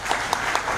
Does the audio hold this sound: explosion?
no